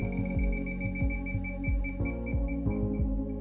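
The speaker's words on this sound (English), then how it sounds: "if the beeping quickens, you're closer to the leak" An INFICON D-TEK 3 leak detector emits a rapid series of electronic beeps at a steady, quick rhythm, close by and moderately loud, with no talking.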